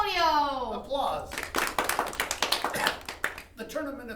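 Audience applause at a tournament trophy ceremony in a staged reading, a short burst of brisk clapping from a small group that rises after a spoken line and fades back into talking.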